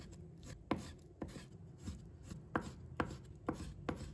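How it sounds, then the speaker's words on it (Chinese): Knife chopping pork belly into small pieces on a cutting board, sharp close knocks landing roughly twice a second in an even rhythm, with no voices. "再切成小块，"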